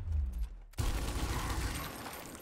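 A gunshot in the turn-based tactics game Gears Tactics cracks abruptly after a brief quiet gap, then a loud broadband roar of gunfire and debris sustains for well over a second before slowly fading.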